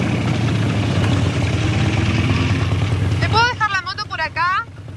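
A motorcycle engine idles steadily with a low rumble, while a voice talks over it and then stops as the engine noise cuts out.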